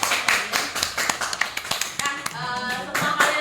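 Classroom group clapping after a presentation, a handful of hands in uneven, sparse claps at close range, with a voice speaking briefly near the end.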